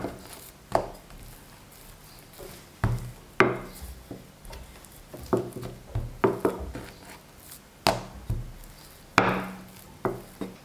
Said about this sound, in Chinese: 直接按压扁，用擀面杖擀成圆形薄饼坯